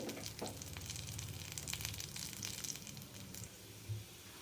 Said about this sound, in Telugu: తాలింపు అయితే వేసుకుందాం అందులోకి జీలకర్ర